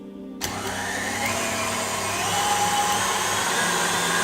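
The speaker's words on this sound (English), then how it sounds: "we'll place the mixing bowl onto our stand with our whisking attachment. And then we'll whisk this for about another 5 minutes." Stand mixer with a whisk attachment beating meringue in a bowl, its motor starting abruptly and holding a loud, steady whirring hum with no talk over it.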